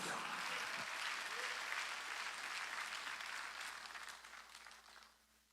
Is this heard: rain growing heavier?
no